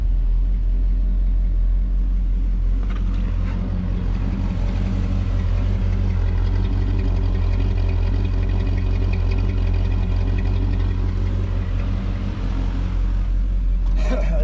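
Old vehicle engine chugs loudly at a rough, uneven idle, a steady low rumble with slight surges, while someone talks over it.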